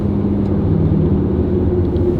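A supercharged Jeep Gladiator V6 engine running steadily, a loud close low rumble with a constant droning hum and no change in pitch.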